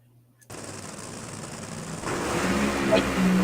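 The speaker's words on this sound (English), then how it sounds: "You can hear Ashley's car move first." An NHRA Top Fuel dragster launching at the strip, a sudden loud crackling roar that starts abruptly and builds in intensity, thunderous and continuous as the car pulls away.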